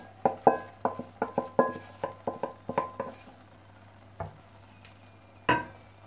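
A spoon scrapes and clinks steadily through eggs being mixed into frying potatoes and salt cod, a run of quick, close strokes over a soft pan sizzle, then a pause and a couple of louder stirs.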